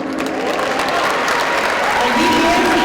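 An audience claps steadily for a long-serving employee being honoured at a school district hall of fame ceremony, a full round of applause that swells slightly toward the end.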